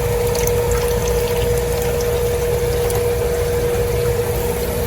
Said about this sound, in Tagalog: So lalagyan na natin sila ngayon ng tap water.